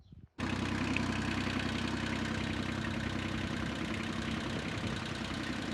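A tractor engine starts up after a brief quiet moment and then idles steadily, a loud, close, continuous rumble with no voices over it.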